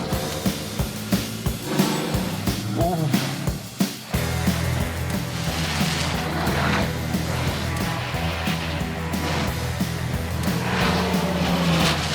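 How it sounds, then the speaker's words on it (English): Chase car driving hard alongside a speed record run, its engine loud and close, rising and shifting through gears, with a steady roar after a sharp change partway through. "just trying to keep up in a chase car"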